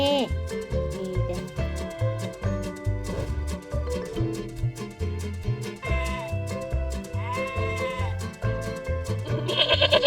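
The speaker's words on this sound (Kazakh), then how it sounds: "Бұл ешкі." A goat bleats repeatedly in short wavering calls, clear and close, over a bouncy rhythmic music backing.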